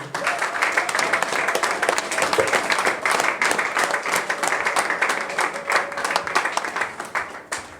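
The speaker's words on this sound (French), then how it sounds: "applaudissons le Seigneur" A church congregation claps steadily and loudly at a French-language worship service, a continuous crowd of hands with rapid overlapping claps that fade out at the end.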